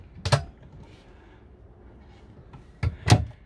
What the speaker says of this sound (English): I'll open up the chest of drawers so you can see that is indeed a chest of drawers